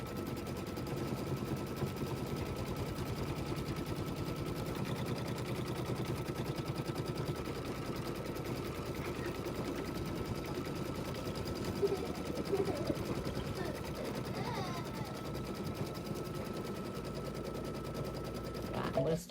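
A sewing machine stitches onto quilt wadding with a fast, steady mechanical rattle that runs continuously at close range, with faint voice-like sounds in the background.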